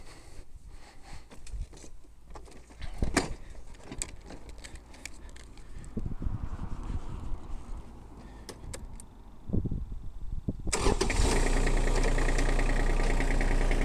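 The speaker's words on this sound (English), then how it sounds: "So let's start up the tractor" An Iseki tractor engine cranks and fires after some clunks and handling noises, then settles into a loud, steady diesel idle close by.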